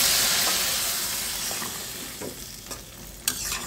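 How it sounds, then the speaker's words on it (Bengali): Radish tempering crackles and sizzles in hot oil in a pan for a small hilsa curry, a steady loud frying hiss that gradually thins, with a few sharp pops and stirring knocks near the end. "এই পর্যায়ে কিন্তু আমি মূলার ফোড়নটা দিয়ে দেব"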